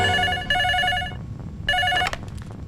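A telephone rings loudly and close, with two bright tonal bursts separated by a pause and followed by a few short fading tones, and no voices over it.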